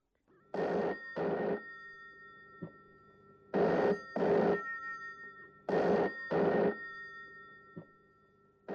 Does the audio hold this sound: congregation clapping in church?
no